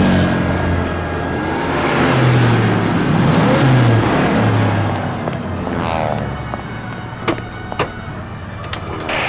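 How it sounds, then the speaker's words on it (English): Police squad cars roar up a city avenue, engines loud and revving as they pass close by, a continuous rushing drone with scattered sharper knocks and clatter near the end. "I've seen 6 squad cars roaring up 8th Avenue."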